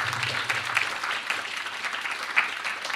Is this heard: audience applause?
yes